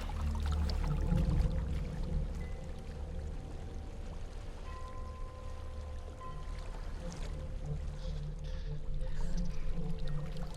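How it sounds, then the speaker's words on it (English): A waterfall in the video game Hellblade: Senua's Sacrifice, a steady, loud rushing roar of falling water that continues unbroken throughout, layered with a low ambient drone and no talking. "There's a waterfall."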